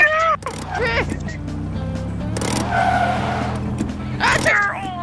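Cars skid and squeal through drifts in an arcade-style rally racing game, with engine whine and a long tire screech midway, under excited shouting from players.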